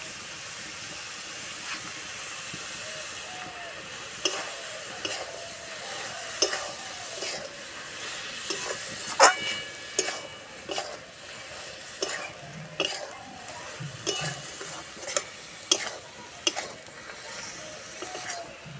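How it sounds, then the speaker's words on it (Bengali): Ridge gourd fries in a pan with a constant soft sizzle and steam hiss, while a spatula stirs it in repeated scraping, clattering strokes that come in irregular bursts, close by and with no talking. "এইভাবে আরো কিছুক্ষণ নেড়ে নেব"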